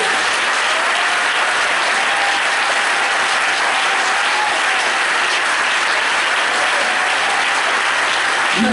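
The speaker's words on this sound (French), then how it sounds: "Can you put your hands together for me?" A church congregation gives loud, sustained applause, an even roar of many hands clapping that fills the whole stretch without pause.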